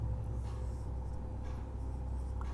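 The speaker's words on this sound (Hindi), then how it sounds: "एक बात और लिखते हैं" Scratchy writing strokes on a board during a physics lecture come in short bursts over a steady room hum, with no talking.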